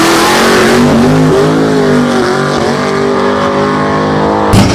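Drag racing car, a 55, roaring loudly down the dragway, its engine pitch climbing through gear changes in a close, continuous howl that cuts off abruptly near the end.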